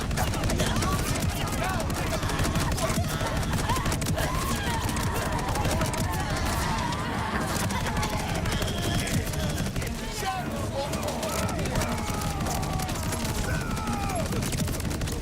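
Rapid bursts of gunfire in the Borderlands 4 video game, dense and continuous throughout, with overlapping shots and game effects layered under occasional talk.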